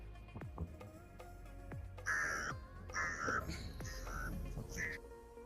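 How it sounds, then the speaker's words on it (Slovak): A gang of crows on a beach near Edinburgh give a run of harsh, loud caws, several birds calling in close succession from nearby. "Tam je gang drzých vtákov"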